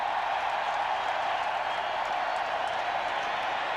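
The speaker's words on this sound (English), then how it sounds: "Listen to this crowd." A football stadium crowd at an Arkansas Razorbacks game against Texas A&M in the third quarter roars as one steady, broad wash of noise from a large distant crowd, unbroken throughout with no clear voices on top.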